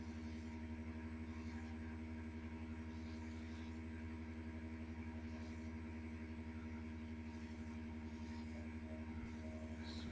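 A steady, loud engine drone with a constant low hum and no pauses, with faint texture above it, matching an aircraft landing in Flight Simulator X.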